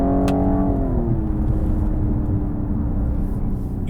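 A Cadillac CT5-V engine holds at its red line, a loud, steady high-rpm drone that barely rises or falls, with a brief pitch shift near the start.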